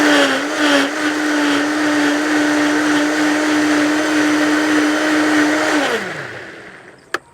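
A blender whirs salsa ranchera made with hot ingredients and lime juice, a loud steady motor drone close by that holds for several seconds, then winds down and stops, ending with a small click.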